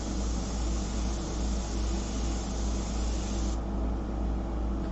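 Steady hiss of an airbrush spraying paint onto a full-color fashion portrait, a continuous broad airy rush with no pauses, close and fairly loud, with a background hum underneath.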